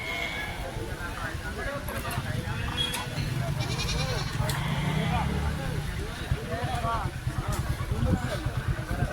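Sheep and rams bleat now and then over a busy outdoor Sunday livestock market din at Chilpur Gutta, with people talking throughout and a vehicle rumbling low.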